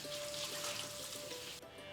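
Tap water runs steadily over flattened rice (poha) being gently washed in a sieve, a soft continuous splashing, faint and close.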